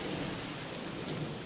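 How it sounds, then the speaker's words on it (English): Steady, dense rain pours down with a low rumble of thunder beneath it. It is a continuous, even hiss with no voices. "People welcome summer rains."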